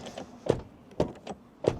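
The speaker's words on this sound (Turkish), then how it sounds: "Dört cam tek tuşla açılıp kapanabiliyor." Kia EV6 Standard Range Elegance power window motor, with three or four short thumps and whirs spaced about half a second apart, close and fairly quiet inside the cabin.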